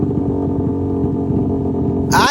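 A Honda RS150 motorcycle engine, street-tuned and fitted with a borrowed exhaust pipe, runs loud and close with a steady idle-like drone. A brief higher rev flares at the very end.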